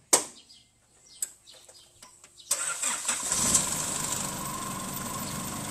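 A car with a remapped ECU and a 2,500 engine cranks with a few clicks and taps, then catches and settles into a steady, fairly loud idle.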